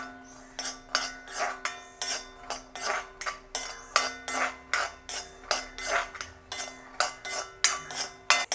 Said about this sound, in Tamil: நாங்கள் பிஸ்தாவை வறுத்துக்கொள்ளுவோம்